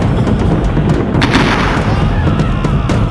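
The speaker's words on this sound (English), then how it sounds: "I'm calling in an airstrike to clean this place out." Airstrike explosions in the Vietnam War shooter Marine Heavy Gunner Vietnam, a continuous loud roar of blasts and rumbling with sharp cracks and pops scattered through it.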